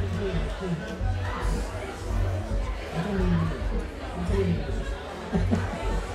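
Crowd chatter at a folk festival: a murmur of overlapping voices close by, with talk and occasional laughter rising and falling over a few seconds.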